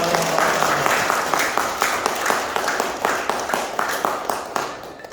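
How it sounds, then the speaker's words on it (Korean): Steady applause from a crowd, many hands clapping in a brisk, even patter that holds for several seconds. "박수 한번 주세요"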